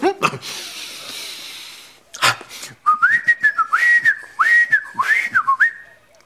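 Someone whistles a warbling tune imitating a blackbird in rising and falling phrases after a few breaths and sniffs, close and fairly loud.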